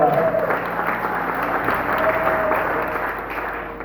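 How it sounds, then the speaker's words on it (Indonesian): A church congregation claps during a revival service at a Pentecostal church, a dense, even patter of hands held steady for several seconds against a faint background hum. "Kau kasih tepuk tangan bagi Tuhan."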